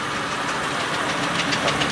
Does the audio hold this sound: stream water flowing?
no